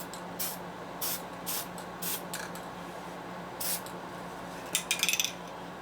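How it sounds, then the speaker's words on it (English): Short spray-can bursts coat the cylinder studs of a 1972 Harley-Davidson XL Sportster 1000cc ironhead engine during a rebuild, several separate hissing puffs over a quiet background hum, with a quick cluster of bursts near the end. "This does need to be painted most of the way because they're going to be open at the atmosphere a little bit."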